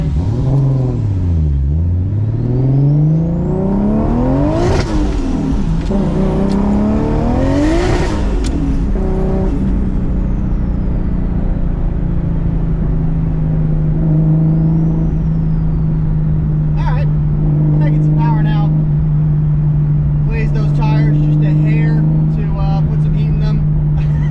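A 600whp Lexus IS300 engine on a street tuning pull, revving hard and climbing in pitch, cutting back, winding up again, then settling into a steady loud drone with some crackle.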